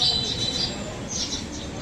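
Pigeons in a loft, including a zebra-barred bird, give faint chirps and soft calls over a steady low background, with a voice talking nearby.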